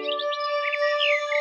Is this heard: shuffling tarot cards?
no